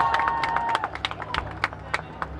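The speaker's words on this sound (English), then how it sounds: "I would appreciate applause throughout the performance today" Sparse, uneven clapping from a small audience at a Thorpe Park Fright Nights show, a handful of separate claps over a faint tone and murmur of voices.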